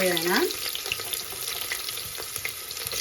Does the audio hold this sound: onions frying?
yes